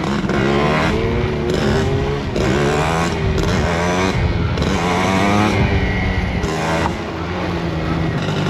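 Small motocross motorcycle ridden hard, a loud continuous buzzing engine note close to the rider with slight rises and dips in revs throughout.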